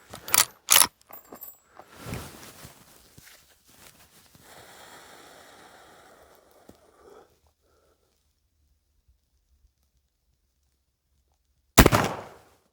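Sharp gunshots from a Winchester Model 1866 rifle firing real black powder cartridges: two quick loud cracks at the start, a softer shot with lingering rumble and hiss, then silence before one more loud crack near the end.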